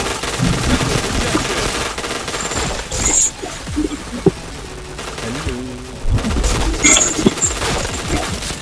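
Rapid automatic gunfire from a shooting video game, with bursts and single shots over continuous game ambience while a voice talks over it.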